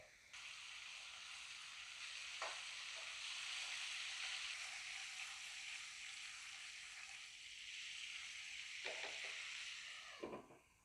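Chicken frying in butter in a pan, a steady loud sizzle with a few brief scraping stirs near the start and the end.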